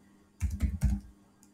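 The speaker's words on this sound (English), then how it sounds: "So I need to type in ls" A few quick keystrokes on a computer keyboard, clustered in a short burst of close, crisp clicks against near silence, with one faint tap after.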